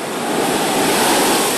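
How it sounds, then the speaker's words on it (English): Ocean waves and surf pound Newport's Easton's Beach ahead of storm Irene, a loud, continuous roar of breaking water with some wind noise and no voices. "you can see the waves have really started to pick up"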